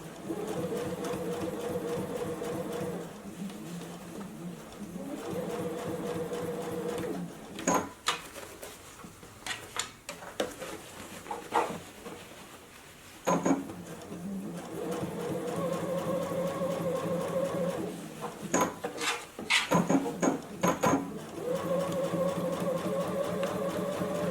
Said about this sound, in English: as I sew, right up next to that seam to top stitch this down